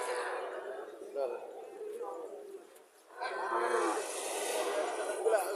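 At the Chandimura cattle market in Barura, Cumilla, a cattle calf gives a drawn-out moo near the start and another long call later, with crowd chatter and voices all around.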